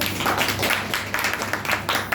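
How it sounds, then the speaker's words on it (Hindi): An audience applauds at a workshop performance: dense, continuous clapping from a crowd, fairly loud and even, with no talk over it. "एक बार जोरदार ताली बजाइए आप लोग।"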